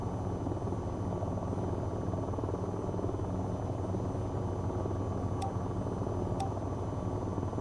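Helicopter in the VTOL VR flight game, a steady droning rotor and engine hum sustained throughout at even loudness, with two brief faint clicks late on and no talk.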